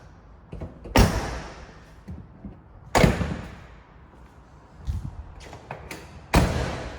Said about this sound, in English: Oh, close that door.